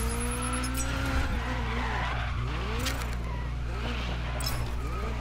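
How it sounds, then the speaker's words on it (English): A rally car in the Dirt 5 video game slides into a drift, its tires squealing and skidding in long sweeping wails over a constant engine drone. "There goes the drift."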